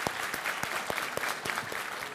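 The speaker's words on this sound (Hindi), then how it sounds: "तालियों के साथ दोनों का बहुत बहुत स्वागत कीजिए" A studio debate audience applauds two speakers walking onto the stage, giving moderate, fairly steady clapping with a few sharper individual claps standing out.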